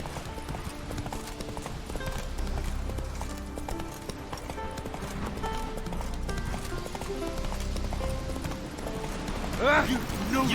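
The horse Roach gallops in The Witcher 3: Wild Hunt, with a steady, close clip-clop of hooves running throughout over a low game soundscape, and a brief whinny near the end.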